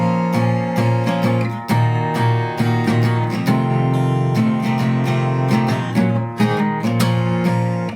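Acoustic guitar strumming the chords of a song, a steady run of full strummed chords with clear rhythmic attacks and ringing sustain, played alone and up close.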